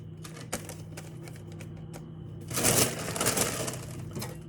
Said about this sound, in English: I'm going to fold that piece of grease-proof paper in half.